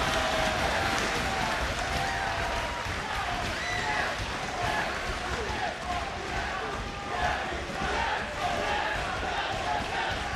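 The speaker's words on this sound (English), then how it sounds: "The crowd chanting, fight forever, they just might." A large wrestling arena crowd at an NXT TakeOver title match chants loudly and rhythmically, a dense roar of many voices that never drops away.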